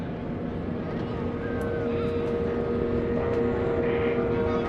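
GEICO Skytypers SNJ propeller aircraft flying together in formation at an airshow at NAS Oceana, giving a steady, continuous drone with a faint higher whine over it, held at an even level for a few seconds.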